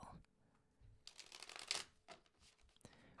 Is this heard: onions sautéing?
no